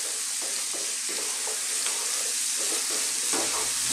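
Onions and beef fry in a pan for carne guisada, a dense continuous sizzle with soft intermittent stirring scrapes, close and steady for the whole stretch.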